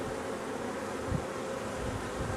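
Dense honeybee buzzing around an open hive near the queen forms a continuous, close drone throughout, with no voices.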